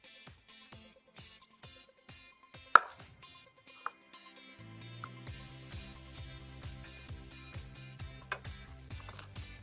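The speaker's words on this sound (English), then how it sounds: "I have this gorgeous platter of fresh vegetables here, and I'm just gonna cut them" A knife chops fresh vegetables for a hummus platter in a steady series of crisp, close thuds on a board. Music joins partway through and plays under the continuing chops.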